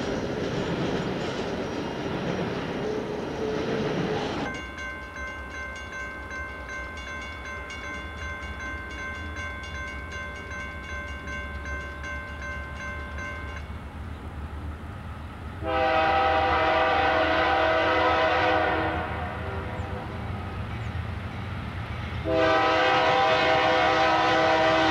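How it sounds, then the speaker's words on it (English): A westbound freight train, Q-161 on the B&O line at Deshler, Ohio, rumbles past with rolling car noise, its horn sounding in long sustained blasts, loud and close, with no talk. "Q-161, westbound on the B&O."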